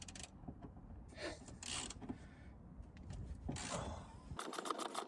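A middle seat belt in a Ford Crown Victoria Police Interceptor is unfastened and worked loose, giving faint mechanical clicks, rustles and creaks in short, irregular bursts close by, ending in a sharper rattle.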